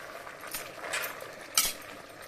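A spoon stirring boiling tomatoes in a pot while making tomato pickle: a few soft scrapes and clinks against the pot, ending in one sharper clink, close and fairly quiet.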